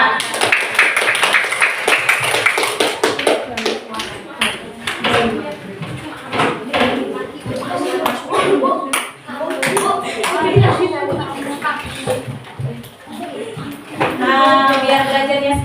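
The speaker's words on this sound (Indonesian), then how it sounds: "berikan tepuk tangan kepada kelompok 4" A classroom in Indonesia claps for a student group after its presentation: dense, continuous hand clapping from many pupils, steady for about fifteen seconds, with voices mixed in.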